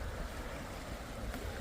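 A fast-flowing river rushes steadily nearby, a broad continuous wash of water noise holding at an even level with no talking over it.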